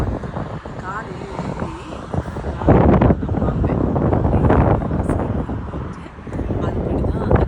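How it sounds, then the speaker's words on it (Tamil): Strong morning wind in the UAE buffets the microphone in heavy rumbling gusts that swell and ease throughout, while someone speaks under the roar. "யூஐயில் செம்ம காற்று."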